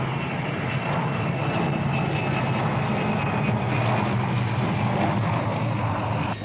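A Transall military transport aircraft flies overhead, its propeller engines giving a steady, loud broadband roar that holds without a break throughout.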